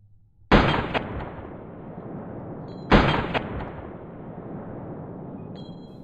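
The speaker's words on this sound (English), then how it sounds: "I'm pretty sure that first shot hit him straight in the head" Two loud gunshots in the survival game DayZ, roughly two and a half seconds apart. Each sharp crack is followed by a long, rolling echo that fades slowly, and nobody speaks.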